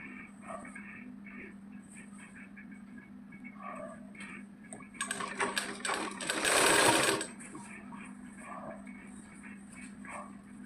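A sewing machine stitches a child's petticoat top in a short, louder burst of whirring, set amid a quiet room where someone speaks softly.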